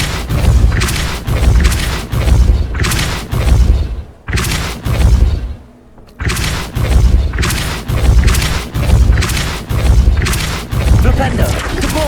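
Spell blasts and explosions from the Hogwarts Legacy video game hit one after another in a steady run of loud booming bursts, with brief gaps near the middle and a voice calling out spell names throughout.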